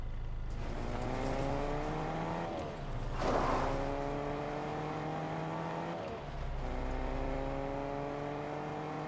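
A car engine droning steadily in a video game, revs climbing in repeated gear-shift sweeps with a brief dip midway, close and continuous with no talk.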